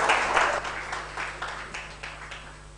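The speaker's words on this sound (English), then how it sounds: "Round of applause for Nesma from GrowCart." Audience applause at a women's startup pitch competition final, moderate clapping that fades gradually over a few seconds, with rhythmic pulses and no speech over it.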